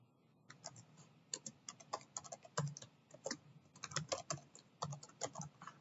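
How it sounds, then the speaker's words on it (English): An email address being typed on a computer keyboard: quiet, quick clusters of crisp key clicks with short pauses between bursts, close to the microphone. "So I'll type in my email address here."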